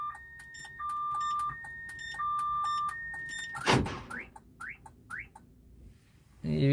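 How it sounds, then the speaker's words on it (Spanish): A Chevrolet car alarm chirps in repeating electronic tones, then gives a few rising beeps and a brief whoosh, close by with no talking. "Ahí el carro está con la alarma, ¿verdad? Está sonando."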